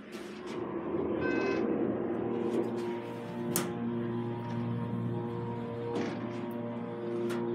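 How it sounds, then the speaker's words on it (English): A Schindler 321A elevator motor at a movie theater runs with a steady, low mechanical hum and tonal whine, joined by occasional clicks and clunks of the car moving, fairly quiet and without talking. "that's a nice motor"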